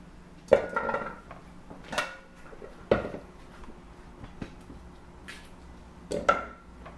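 Cassava being peeled and cut with a knife in a kitchen, with several distinct sharp knocks and clatters of blade and pieces against a board or dish, spaced a second or two apart over a quiet background.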